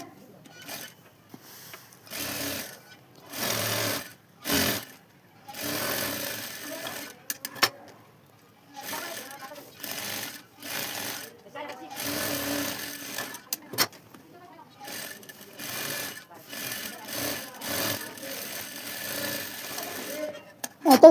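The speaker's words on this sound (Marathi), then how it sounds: "सरळ कॅनव्हास हा सर्वात खालच्या बाजूस धरा आणि दाखवल्याप्रमाणे तुम्ही अर्धा इंच अंतर धरून कडेने सरळ टिप द्या" A sewing machine stitches a straight seam along canvas for a small mobile pouch in short bursts separated by pauses, with someone talking between and over the runs.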